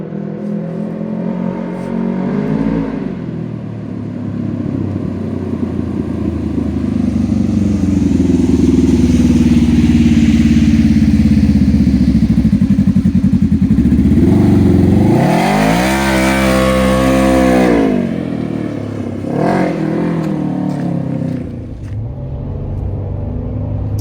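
A UTV engine with a homemade DIY exhaust idles with a deep, close rumble, then revs up and back down in a sharp burst, followed by a couple of shorter blips.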